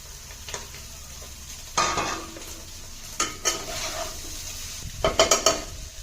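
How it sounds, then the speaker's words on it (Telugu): Rice tipped into a pan for boiled egg fried rice with curry leaves, stirred with a few scraping clinks and spatula knocks over a soft steady sizzle, close by with no talking. "రైస్ వేస్తున్నాం."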